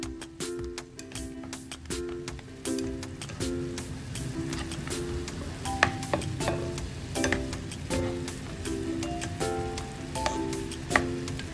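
Pork belly browning in a pan, with a crackling sizzle full of fast popping spatters under a steady musical tone, close and fairly loud throughout.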